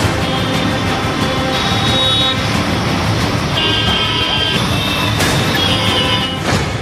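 Car horns toot repeatedly over a dense, constant roar of city traffic, with engines and mixed road noise close by and voices faintly audible in the din.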